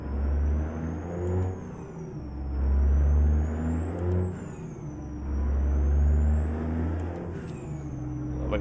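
A truck engine in American Truck Simulator hums deep and loud, rising and falling in swelling waves as it revs, with a high whine sweeping up and down above it and a couple of brief hissing bursts.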